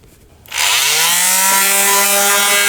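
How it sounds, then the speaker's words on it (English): A power tool run over the ends of freshly cut wooden boards during a toybox build, starting abruptly after a quiet moment and holding a loud, steady, slightly rising whine with strong tonal harmonics. "I'm going to go over that end there with the sander to get those splinters off."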